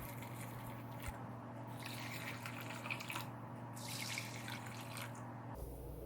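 Tap water runs steadily over red dates, dried longans and goji berries being rinsed in a bowl, with soft splashing and squishing of the fruit, close and fairly quiet, no speech.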